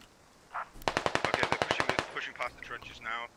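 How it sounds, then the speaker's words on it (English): Automatic gunfire in the Squad military shooter game rattles off as a rapid string of about a dozen evenly spaced shots, moderately loud, with a few scattered bursts and muffled game noises around it. "turns and shoots him in the face"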